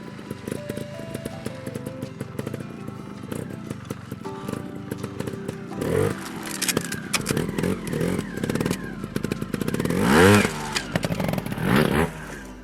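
A trial motorcycle engine revs and pulls away with bursts of throttle over an obstacle, loud and close, with some clattering and scraping mixed in.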